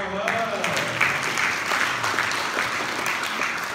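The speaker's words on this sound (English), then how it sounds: "another big applause for her" A church congregation at Sunday Mass applauds, a steady dense patter of many hands filling the space for several seconds at even loudness.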